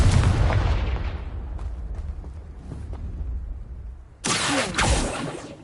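A Confringo spell explosion in Hogwarts Legacy lands as a loud, deep boom that rumbles and fades over several seconds, then a second burst hits near the end.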